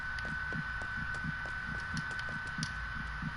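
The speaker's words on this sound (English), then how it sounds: "Why is the heartbeat going up?" A game heartbeat in Dreams thumps in steady double pulses, about five beats in a row, over a constant electronic hum.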